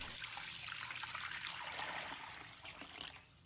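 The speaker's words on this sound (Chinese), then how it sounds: "揉搓几分钟后，倒入清水，" Clean water trickles into a bowl of chicken gizzards being rinsed after rubbing with baking soda, a soft, continuous splashing pour that is fairly faint and fades slightly toward the end.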